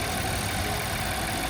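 A BMW N63 V8 engine idling steadily at regular idle speed with no misses, a constant close mechanical rumble and hum throughout.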